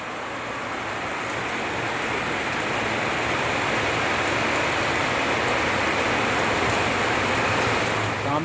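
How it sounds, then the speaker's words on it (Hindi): Steady, heavy rain pours without pause in the mountains at Chaukori, a dense broadband hiss that stays loud and even throughout, with no voices. "कंटिन्यू बारिश चल रही है यहाँ पहाड़ों में"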